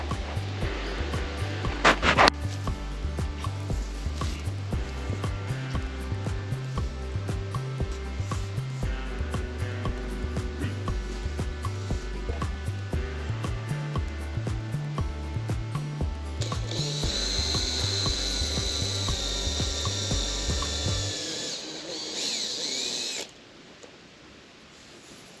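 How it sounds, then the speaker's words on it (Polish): A power drill bores into a wooden post for bean supports, its motor running steadily for about twenty seconds with a rhythmic ratcheting pulse, rising in pitch near the end before winding down and stopping. "Teraz tylko nawiercić, przekręcić i będzie dobrze."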